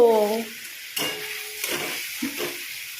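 Soya chunks being stirred and fried in oil in a pan for a soya curry, a soft close sizzle broken by intermittent scraping stir strokes, with a brief voice at the start.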